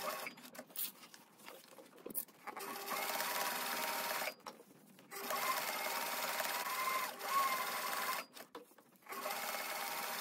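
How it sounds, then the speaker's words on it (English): A sewing machine top stitches a crossbody bag strap in several bursts of rapid whirring, separated by short pauses. "So I'll take this over to the sewing machine now and top stitch it."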